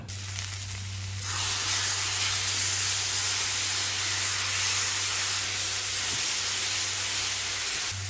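Turmeric powder is sautéed in a pan for village-style home cooking. A loud, steady sizzling hiss starts abruptly after a second and holds, with a constant low hum beneath it.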